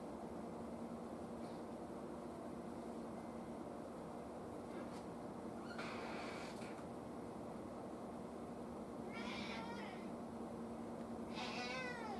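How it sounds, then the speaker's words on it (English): A pet cat meows several times in a workshop during a vintage 1930s Sonora radio repair, the short plaintive calls rising clearly over a steady hum and room noise. "There's my kitty"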